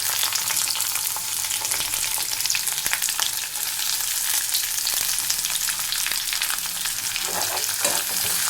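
Chopped large onion sautés in hot oil for a sundakkai kuzhambu, giving a loud, continuous sizzle with the scrape and tap of stirring running through it.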